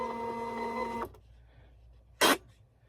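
Desktop label printer printing a shipping label: a steady mechanical whir with tonal hum for about a second, stopping sharply, followed after a pause by a short loud burst as the label feeds out.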